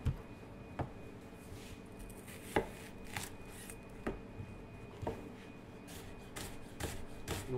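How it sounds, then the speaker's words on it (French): A knife cuts thin slices on a cutting board with crisp, fairly regular strikes, about one every second, close and clear in a quiet kitchen setting. "vous allez couper de fines tranches"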